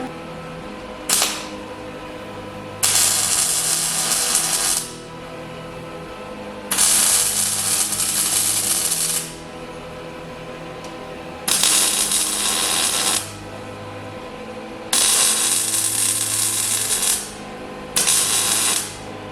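A tool tightens bolts on angle brackets under a Suzuki Samurai in repeated loud bursts of several seconds each, separated by short gaps of quieter background.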